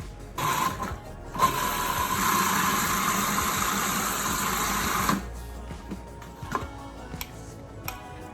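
A food processor grinding vegetables for a vegan patty filling, heard as a loud whirring burst of about five seconds, followed by quieter clicks and handling noises close by.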